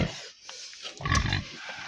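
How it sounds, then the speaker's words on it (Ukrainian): Pigs grunting on a village farm in the evening, a few low close grunts, the loudest near the middle, over faint rustling. "Так, оу, свині."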